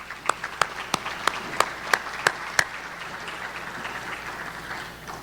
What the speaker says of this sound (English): Let's give all these businesses a round of applause.